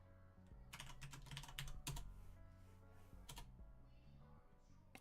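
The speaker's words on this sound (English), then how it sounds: "you can clearly hear how many times I've pressed my keys" Quick bursts of keystrokes on a computer keyboard while a password is entered, soft and fairly close, clustered in two runs with pauses between them over a low steady hum.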